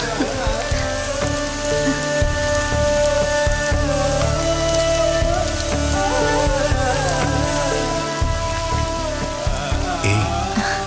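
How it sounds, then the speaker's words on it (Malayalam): Heavy rain beats steadily on a palm-leaf thatched roof, a continuous pattering wash that runs under loud, sustained music throughout. "പനയോലപ്പുറത്ത് മഴ കൊട്ടുന്ന താളം"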